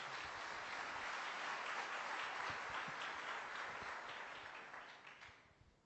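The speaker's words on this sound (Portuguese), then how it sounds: "Vamos aplaudir a palavra de Deus" A church congregation applauds after a scripture reading, soft distant clapping that holds steady and then fades toward the end.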